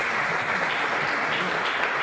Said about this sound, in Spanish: un fuerte aplauso para Pablo Márquez